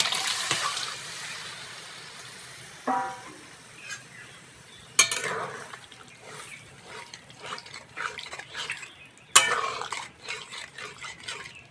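Chunks of ridge gourd and boiled potato go into a frying pan of fried ginger, cumin and poppy seeds, sending up bursts of hissing sizzle, followed by spatula scrapes and stirring clatter, with sharp spikes as the pieces land.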